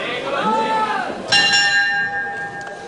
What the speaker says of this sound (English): The bell helped him again.